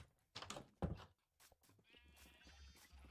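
A sheep in a blocky sandbox video game gives a couple of close, buzzy bleats, followed by a softer trailing tone and faint game sounds, with no talk.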